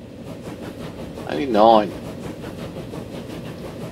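A train running in the railway-building video game Transport Fever, a low steady rumble with faint rail clatter held under a voice, which comes in briefly with a sweeping tonal rise around the middle.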